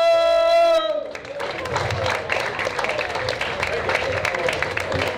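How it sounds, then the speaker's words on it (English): Comedy club audience applauding and cheering for comedian Stan Keshner, a loud burst of clapping from a crowd that follows a short tone and carries on steadily to the end. "Let's give a big round of applause for Stan Keshner!"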